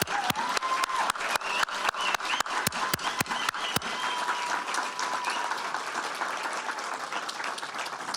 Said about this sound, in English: Let's give a really warm round of applause for 150 years of putting books in the hands of readers